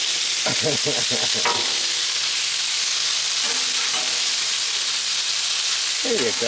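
Chicken pieces frying in a pan for chicken fried rice give a loud, constant sizzle, with spatula scrapes and stirring clatter near the start and end; a voice speaks briefly.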